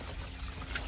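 Water draining out of a long-neglected container during a DIY clean-up, a steady soft trickle and pour running continuously close by with no talk over it.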